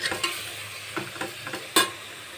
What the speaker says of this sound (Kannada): ಹಾಕಿ ಚೆನ್ನಾಗಿ ಮಿಕ್ಸ್ ಮಾಡ್ತಾಯಿದ್ದೀನಿ